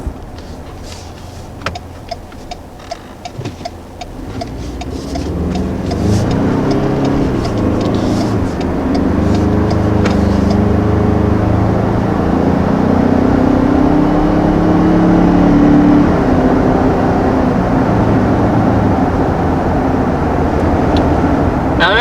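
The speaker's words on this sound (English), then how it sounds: "It is definitely a lot quieter, even when you're heavily accelerating." A 2020 Ford Ranger with a 10-speed automatic accelerates hard from inside the cab, a fairly quiet engine drone and road rumble swelling and holding steady after a few soft clicks at the start.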